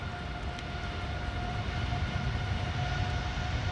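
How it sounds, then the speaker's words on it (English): An Air Canada Boeing 787-8 Dreamliner takes off from Schiphol's Polderbaan runway 36L bound for Toronto. A steady, loud, broadband engine roar holds with faint tonal whines over it, and no voices are heard. "Air Canada Flight 809 to Toronto, Canada. On its way."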